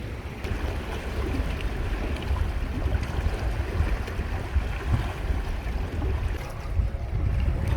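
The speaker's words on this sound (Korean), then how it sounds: "파도는 아니어도 물결이 일어나는 소리가 참 듣기 좋습니다" Continuous low wash of harbor water ripples lapping against hard surfaces at a public fishing pier, steady and close, with faint wind and no voices.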